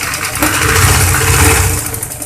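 A sewing machine stitches the shoulder seam of a baby umbrella frock, running as a steady, loud, close mechanical whir for a couple of seconds with no voices.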